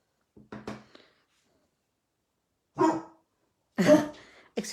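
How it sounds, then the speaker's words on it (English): A dog in a house room gives a few short, sharp barks in separate bursts, close and fairly loud, with silent gaps between them. "that was the dog"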